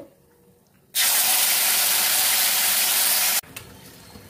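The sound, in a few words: spice paste frying in oil with cardamom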